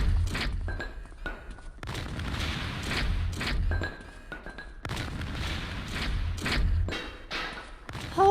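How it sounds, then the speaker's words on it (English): Grenades launched from security cameras in Thief 2 go off in a run of deep, thudding booms with sharp onsets and clanking mechanical sounds between them, under a player's talk. "I didn't realize the security camera had bombs inside of it."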